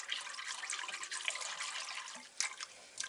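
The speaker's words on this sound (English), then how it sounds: "I'm going to just take a little whisk and give it just a little bit of a stir" A small whisk stirs active dry yeast in liquid in a home kitchen while bread is being made, giving a steady wet swishing and light clinking, close and fairly quiet, with no talking.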